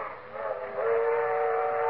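A train sound effect from a 1944 Fibber McGee and Molly radio comedy broadcast: a steady rolling rumble under a loud, sustained whistle tone that swells midway and holds to the end, with no voices.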